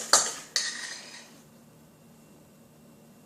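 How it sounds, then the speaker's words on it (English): Spoon working sugar into butter in a bowl for microwave sugar cookies, two sharp clinks of metal on the bowl followed by fading scraping and then near silence. "you're going to add a little bit in at a time and stir it up"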